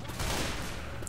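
Steady gunfire in Left 4 Dead 2 as zombies are shot, a dense continuous burst of shots running the full length at even loudness, with no clear pauses.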